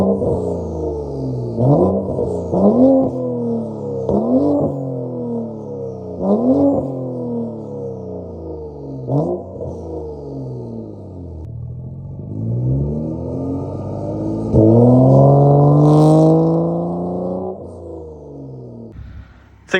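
A BMW M235i with a custom exhaust revs repeatedly in sharp rising bursts, then accelerates and passes by. The engine note is loud and close, builds into a long pull near the end and then fades, with no talking.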